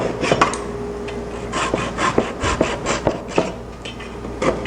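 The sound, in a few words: dovetail saw cutting wood at a miter joint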